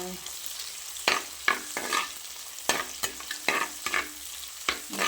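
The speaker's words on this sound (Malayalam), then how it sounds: "ചെറിയുള്ളി പിന്നെ ഇതാ മുളകും ഇഞ്ചിയും കൂടിയിട്ട് നന്നായി വതക്കണം" Shallots, chili and ginger sautéed for a Palakkad-style fish curry in a home kitchen, with a steady sizzle broken by repeated sharp scrapes of a spoon against the pan, close and moderately loud.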